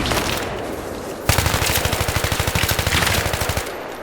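Automatic rifle fire in the video game Battlefield 3, a rapid, evenly spaced burst of loud, punchy shots over steady background game noise, heard without any talk.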